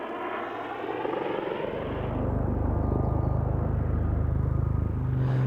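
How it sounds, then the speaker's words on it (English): Army Air Corps Lynx helicopter performing a backflip at an airshow, a loud steady turbine whine and rotor roar that swells and deepens as it nears, with no voices. "Watch out for the trademark manoeuvre of the Lynx, flown by Warrant Officer 2 Bob Lewis"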